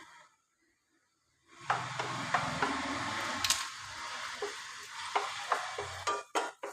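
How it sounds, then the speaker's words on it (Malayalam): Ginger, green chillies and shallots fry in a pan, a steady close sizzle with scraping stirs and occasional clicks of a utensil against the pan after a quiet opening. "ഇഞ്ചി, പച്ചമുളകും ചുമന്നുള്ളിയും കൂടെ, ചെറിയ ഉള്ളി കൂടെ വറക്കാൻ പോവാം."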